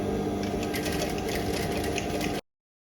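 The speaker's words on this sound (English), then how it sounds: "So I'm stitching around the corner of the flap." A sewing machine fitted with a size 18 needle stitches around the corner of a faux leather bag flap, a steady, close, rapid mechanical whirr and clatter that runs continuously, then stops abruptly.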